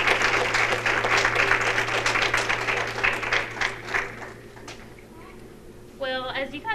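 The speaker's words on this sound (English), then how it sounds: "give these ladies and gentlemen another round of applause" An audience at a 4-H fashion show claps loudly and steadily, then the applause thins and fades, and a voice speaks at the end.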